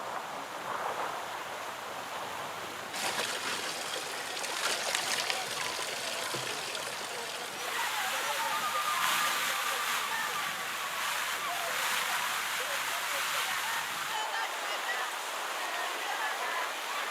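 Water gushing up out of the ground from a newly drilled borehole in a drought-stricken zone, a continuous rushing, splashing roar that swells louder partway through, with a voice talking over it.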